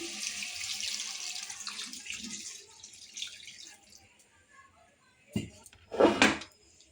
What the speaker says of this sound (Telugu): వాటర్ పోయాలి.